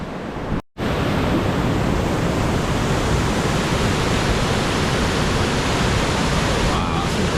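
A loud, continuous roar of rushing river water at Linton Falls near Grassington fills the scene, broadband and steady, broken only by a brief dropout near the start.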